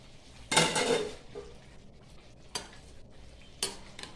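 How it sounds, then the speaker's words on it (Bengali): A pot lid lifted off a simmering pot of kosha mangsho, Bengali spiced mutton, giving a clattering metallic rattle with scraping, then two shorter knocks of metal on metal a few seconds apart, close by. "বন্ধুরা এখন চাপাটা ওঠাবো"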